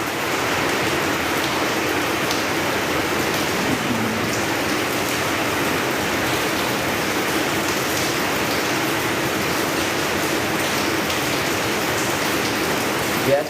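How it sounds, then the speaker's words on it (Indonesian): Steady rain falls outside a school, a dense, even hiss of drops on surfaces that holds without pause at moderate loudness throughout. "Ya, sekarang hujan mulai turun."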